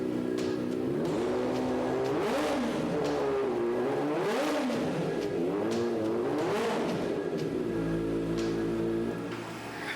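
A 250 cc motorcycle engine revs repeatedly, its pitch swooping up and down in several loud, close throttle blips over a steady running rumble, with no talk.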